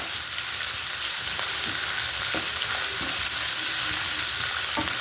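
Two medium onions frying in a pan, a steady loud sizzle running throughout with occasional faint clicks and scrapes, close up and without voices.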